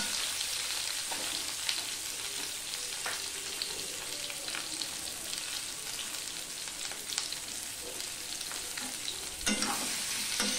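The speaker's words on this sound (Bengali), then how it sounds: "দিয়ে আলুটা আমি ভেজে নিচ্ছি।" Boiled potatoes with turmeric fry on high heat in a wok, giving a steady hiss of hot oil with frequent scraping stirs, moderately loud and close, no voices.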